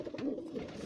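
Pigeons coo in a breeding loft, a soft, close, rolling call that repeats steadily for under a second with no talking.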